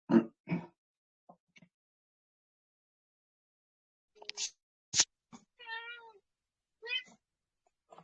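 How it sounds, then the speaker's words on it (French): A pet cat meows several times indoors, short close calls in scattered bursts with long quiet gaps between them. "il y a mon chat"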